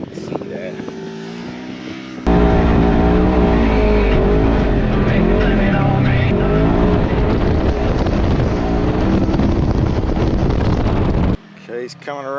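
A CFMoto ZForce 950 Sport or Polaris RZR XP 1000 side-by-side roars past on a track, a quiet idle suddenly giving way to a loud, wind-buffeted engine rush with revving pitch swings, then cutting away abruptly; a voice speaks briefly.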